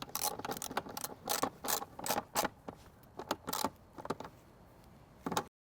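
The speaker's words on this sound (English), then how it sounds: "so now I can put the bolts back in." A ratchet driving tail light bolts back into a Toyota Prius C, sounding as a run of quick, close metallic clicking bursts in uneven rhythm, with short pauses between turns.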